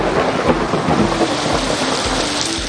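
Heavy monsoon rain pours over a city in a loud, dense, continuous downpour, with low rumbles beneath the steady hiss.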